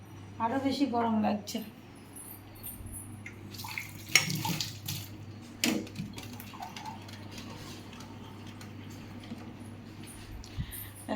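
Dishes being washed under a running kitchen tap, with water splashing and clattering in bursts while someone talks over the steady household background.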